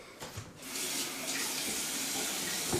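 Water pours steadily from a tap into a container, a close, continuous rushing splash after a brief quieter start, with no voices.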